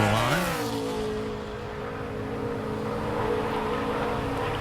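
NASCAR stock car on a 2010 qualifying lap, its engine note dropping as it sweeps past, then holding a steady droning roar that stays loud without fading away.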